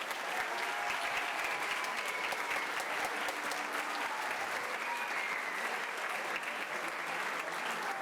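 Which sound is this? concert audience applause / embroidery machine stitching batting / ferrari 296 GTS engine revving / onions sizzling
concert audience applause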